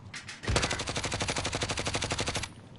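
Gunfire in a battle royale video game, with a minigun in play: a loud, close, sustained automatic burst of evenly spaced rapid shots lasts about two seconds after a single shot, then cuts off, with no talking.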